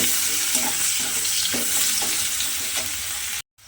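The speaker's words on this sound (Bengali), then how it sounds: "দিয়ে পেঁয়াজটা প্রথমে একটু হালকা করে ভেজে নেব।" Very thinly sliced onion fries in hot oil with a continuous bright sizzle and a few soft stirring knocks, then the sound cuts off abruptly to a brief silence near the end.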